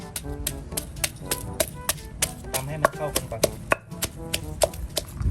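Thai papaya salad pounded in a mortar, a rapid series of sharp, evenly spaced knocking thuds, close and loud, keeping a steady rhythm for several seconds.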